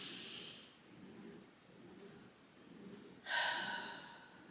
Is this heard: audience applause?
no